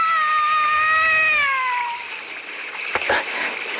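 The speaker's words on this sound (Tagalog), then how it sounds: "Ang pusa!" A cat gives one long, drawn-out meow that rises and slowly fades, followed by a couple of faint splashy knocks, in an animated series.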